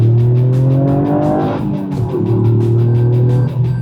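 A Toyota GR Yaris hot hatch accelerating hard, its engine note climbing loudly through the revs, easing briefly, then rising again, heard close up from inside with no talking.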